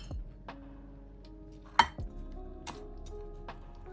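A baked marrow charlotte dish from a WW2 recipe is lifted out, bringing a few close clinks and knocks of dish and utensils, one sharp clatter standing out over a quiet room.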